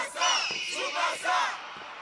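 Cartoon crowd in a Beyblade stadium roaring and cheering, a dense wall of excited voices surging and falling in waves, loud and filling the whole moment.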